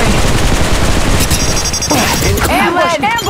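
Rapid, loud gunfire in Apex Legends Mobile, with dense overlapping bursts from several weapons in a chaotic firefight and short whistling game effects near the end.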